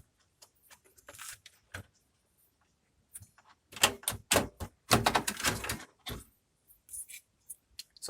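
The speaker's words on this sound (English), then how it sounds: "Let me remove this card first." Graphics card being pulled out of a Dell Optiplex 740 desktop PC: a string of close, sharp plastic and metal clicks and clatters, with a denser burst of rattling in the middle, alone without talk.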